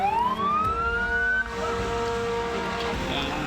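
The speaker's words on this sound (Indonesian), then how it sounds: "Empat armada pemadam kebakaran Kota Kendari dikerahkan untuk memadamkan api." A fire engine siren in Kendari, Indonesia, responding to a fire, wails, its pitch sweeping upward, then drops into a steady blaring horn tone amid traffic rumble.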